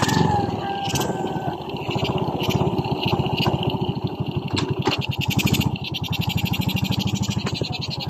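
A Honda XRM 110-type small motorcycle engine running after a kickstart, a steady close putter with rapid regular firing pulses throughout, no talk over it.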